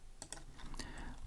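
Code being typed on a computer keyboard while programming, a short burst of several quick, close key clicks with a brief pause between them.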